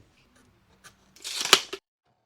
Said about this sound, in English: And we're going to cut off the end just to make it clean.